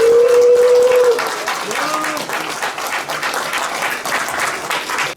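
An audience at a forum applauds as guests are welcomed onto the stage, producing loud, dense clapping that fades slightly and continues to the end, with a brief voice early on.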